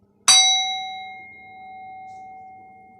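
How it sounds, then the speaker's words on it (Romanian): A singing bowl struck once, giving a bright metallic strike followed by a long, clean, sustained ringing tone that slowly fades while still sounding at the end; heard alone, with no voices. "dați-mi voie să folosesc un bol, da? Și să facem o schimbare de vibrație"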